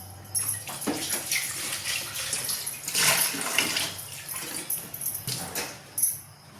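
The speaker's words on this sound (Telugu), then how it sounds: "ఇది ఒకసారి వాష్ చేద్దాం. కొత్తది కదా, జస్ట్ వాటర్ వాష్ చేసేస్తాను." Water splashes and swishes inside a new mixer jar being rinsed, with sloshing bursts and a brief clink, fairly quiet and with no talking.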